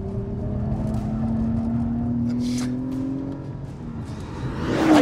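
A 2021 Acura TLX Type S engine holds a steady, loud drone through a track corner while the driver tries liftoff oversteer, the pitch sagging slightly before the revs swell sharply near the end.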